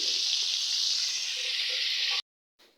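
Prawns sizzle steadily in a hot pan as Malabar spinach is added, giving a close, loud, even hiss for about two seconds that cuts off abruptly, then a brief fainter burst of sizzling returns.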